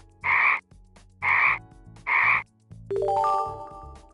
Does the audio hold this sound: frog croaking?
yes